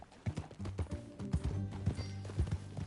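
Horse hooves clip-clopping at a riding pace in the open-world western game Red Dead Redemption 2, a steady close rhythm of thuds with a faint whinny, no speech over it.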